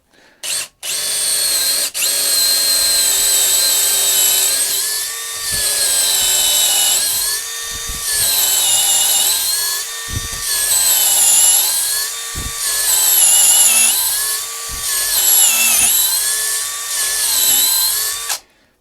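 A cheap brushless 18V cordless drill, a Makita clone, drives a 10mm bit straight through a workpiece, giving a loud, sustained motor whine that dips and surges in regular cycles, close by with no talk.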